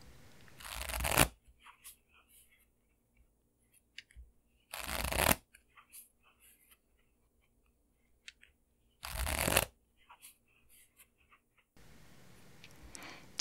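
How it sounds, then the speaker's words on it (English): Playing cards shuffled close up in a blackjack-style riffle, three loud bursts of rapid fluttering spaced a few seconds apart, with soft card handling and taps between and a fourth shuffle starting at the end. "the mesmerizing symphony of shuffling playing cards"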